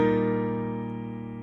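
A piano sustains a rich, slowly decaying chord from a section of a song, heard close and alone with no voices.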